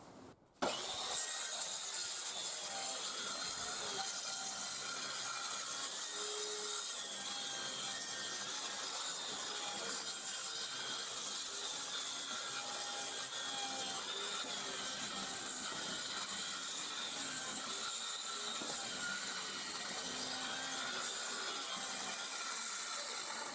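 A hand saw cuts through wood for outdoor terrace finishing work, making steady rasping back-and-forth strokes close by that run continuously after a sharp start, with no talking.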